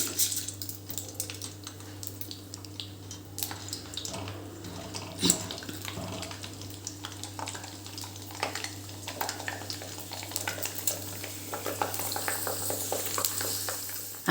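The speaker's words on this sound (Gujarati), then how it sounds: "આ જ રીતે આપણે બધા સાબુદાણા તળી લેવાના છે" Sago pearls (sabudana) deep-frying in hot oil for a farari chevdo, a steady bubbling sizzle with a faint low hum beneath and scattered crackles and clinks, growing busier toward the end.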